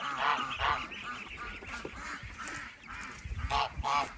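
Loud, continuous honking and squawking from a crowd of chickens in a coop, close by, with overlapping calls throughout.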